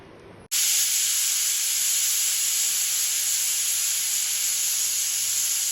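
Loud, steady hiss of steam venting from a pressure cooker's whistle while garlic mutton cooks, starting abruptly after a brief quiet moment and holding constant to the end with no voices.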